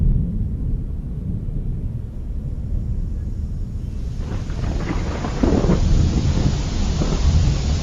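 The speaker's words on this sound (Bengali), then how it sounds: "এই রে, জোরে বৃষ্টি শুরু হয়ে গেল যে" Heavy rain pours down outdoors during a storm, a dense, roaring wash with deep rumbling underneath that swells louder partway through and stays constant, with no voices.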